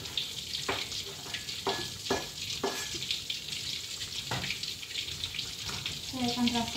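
Onions being added to a hot pan for macaroni soup, frying with a constant close sizzle, punctuated by several sharp stirring scrapes and clatters throughout.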